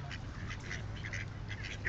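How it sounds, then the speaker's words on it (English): Ducks at a park quack in a string of short, nasal calls, several in quick succession, over a steady low outdoor hum with no talking. "Do you hear him quacking?"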